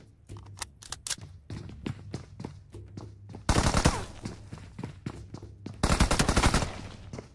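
Rapid bursts of video game gunfire, automatic volleys and single shots crackling in dense sequences with two heavier sustained bursts, loud and close throughout.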